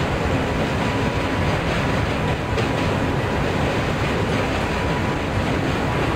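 A Rajdhani Express train running in the Train Simulator game makes a steady, loud, continuous rumble and track roar for the whole stretch, with no voices.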